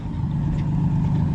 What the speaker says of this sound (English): First time driving the Bel Air with brakes